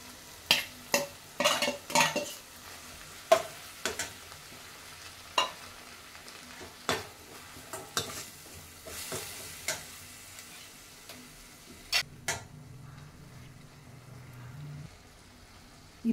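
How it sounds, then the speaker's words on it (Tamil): Banana flower and boiled moong dal being sautéed in a pan for kootu, with scattered spoon clicks and scrapes against the metal over a soft, low sizzle. The strokes come in irregular bursts, close and fairly quiet. "நான் இதில் வந்து வெறும் பூவை தான் இப்போ வதக்குறேன்"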